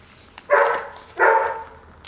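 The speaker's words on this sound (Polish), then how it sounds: "tu piesek się właśnie odzywa na dole" A dog barks downstairs in a home, two separate barks roughly half a second long each, heard from a short distance with nothing else going on around them.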